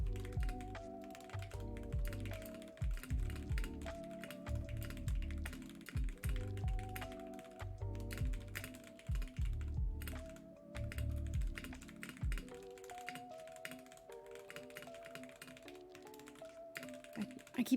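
Rapid, irregular typing on a computer keyboard with clustered key taps, heard over steady background music during a Minecraft gaming session.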